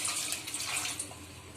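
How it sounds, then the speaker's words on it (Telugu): Water gushes into a pot over raw amaranth leaves in a brief, splashy close-up pour that tapers off toward the end. "తోటకూర మొత్తం మునిగే వరకు వాటర్ వేసుకోవాలి."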